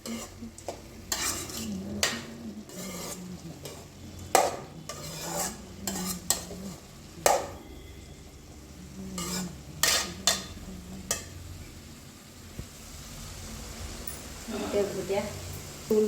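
Beans poriyal being stirred in a pan, with a spoon repeatedly scraping and clattering against the metal over a soft sizzle; the strokes come in irregular bursts, close and moderately loud.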